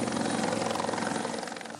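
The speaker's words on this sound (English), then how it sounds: "The rescue choppers spent the day assessing the damage from the air." A rescue helicopter flies overhead, loud and close, its rotor chopping in a fast, steady rhythm over a broad engine roar for the whole stretch.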